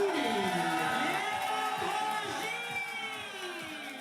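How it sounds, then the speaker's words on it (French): An audience at a drag show cheers loudly, with whoops and drawn-out shouts rising over a lively crowd roar that gradually fades slightly. "Donc je vous demande d'applaudir Léandre Gilles."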